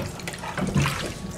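Fresh basil for pesto is swished around in a sink of water, producing a short, steady watery splashing and rushing close by, with no talk.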